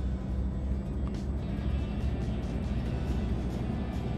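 A truck engine in eighth gear in Euro Truck Simulator 2 gives a constant low, even rumble with a steady hum and no break across the short stretch.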